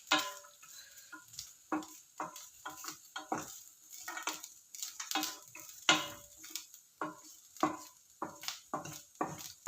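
Grated coconut being roasted in a pan, heard as irregular scraping stirs and light ticking taps from the utensil against the pan, close and moderately loud with no talking.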